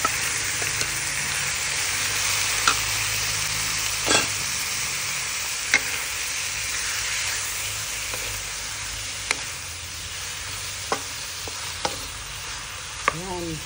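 Squid for adobong pusit, with onion and chili, sizzles steadily in a pan as a spatula stirs, giving periodic sharp clicks and scrapes against the metal over continuous frying hiss.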